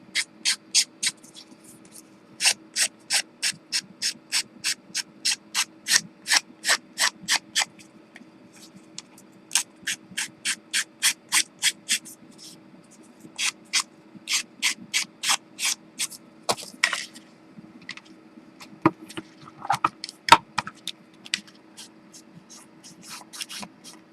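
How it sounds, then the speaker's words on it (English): Quick rhythmic scratchy strokes of sanding the edge of an artist trading card, close and fairly crisp, in bursts of rapid back-and-forth rubs separated by short pauses, with a few taps and handling noises later. "quickly sand the edge."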